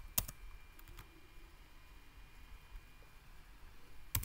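Quiet typing on a computer keyboard: a few sharp key clicks at the start and again at the end, with faint room hiss between.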